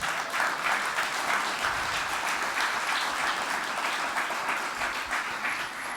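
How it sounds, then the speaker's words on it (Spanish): A church congregation applauds steadily, a dense and even wash of clapping from many hands that fills the room and carries on without a break for several seconds. "darle un fuerte aplauso a Dios"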